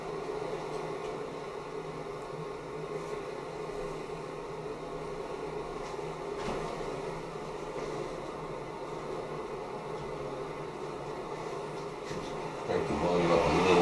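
A backpacking stove, an MSR Microrocket or Primus Classic Trail, burns with a steady close roaring hiss that holds evenly and rises slightly at the end, with no talk.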